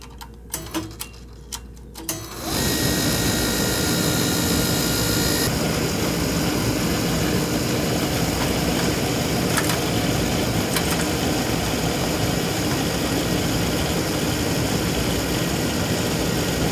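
A home oil burner, serviced for colder weather, gives a few faint clicks and then ignites into a loud, steady broadband roar that runs on evenly and close for the rest of the clip.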